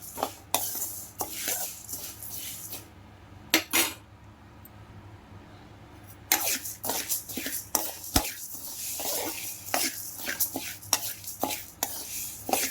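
A utensil stirs spices and lentils dry-roasting in a pan over low to medium flame for sambar powder, making repeated close scrapes and clinks against the metal with a short quieter pause midway.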